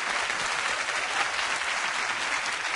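Studio audience on a Brazilian television talk show applauds steadily, a dense, even wash of clapping that holds at a constant level throughout with no voices over it.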